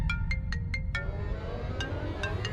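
A mobile phone ringtone plays a quick series of bright, evenly spaced electronic tones, pauses, then resumes over a low rumbling background.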